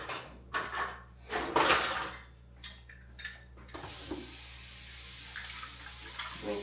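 Tap water runs while a juicer is rinsed, starting with a few splashy, clattering bursts before settling into a soft, steady hiss of flowing water, fairly faint and close.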